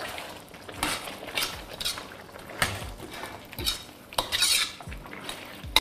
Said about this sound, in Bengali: এবার এটাকে ভালো করে টস করুন।